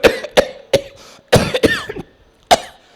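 A voice mimics a coughing fit: several sharp, hacking coughs in quick succession, then a short pause and one more cough.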